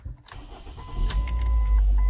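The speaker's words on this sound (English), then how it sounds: "Now we need to start the car up" A Ford Focus engine cranks and catches after about 2 quarts of transmission fluid have been added, with a few clicks and a short starter whir leading into a loud, steady idle rumble.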